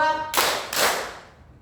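Group hand clapping during a classroom counting clap game used as an ice breaker, two loud claps from many hands together, each ringing briefly before fading, with a voice sounding just before.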